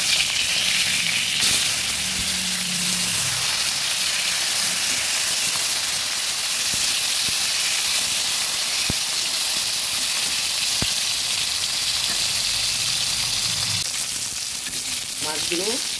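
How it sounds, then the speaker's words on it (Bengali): Turned pieces of katla fish fry in hot oil, a loud, continuous close-up sizzle and steamy hiss broken by a few sharp clicks, with brief utensil scrapes near the end. "মাছগুলো উল্টে পাল্টে ভেজে নিয়েছি, এবার তুলে নেব।"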